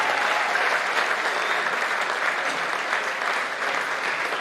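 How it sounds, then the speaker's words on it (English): A small audience at a university faculty alumni lecture claps politely and steadily, a dense, even patter of many hands at moderate loudness that holds throughout without a break. "People are giving her that small clap."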